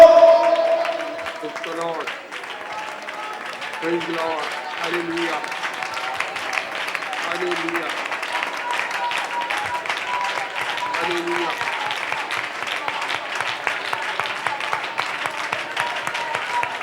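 An audience claps continuously during a church fasting prayer meeting, a dense sustained applause with a voice or tones heard over it in the first few seconds.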